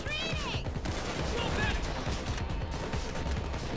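Rifle fire rattles through a Payday 2 heist shootout, rapid bursts of gunshots crackling loud and near over a busy, noisy backdrop, with a voice talking in places.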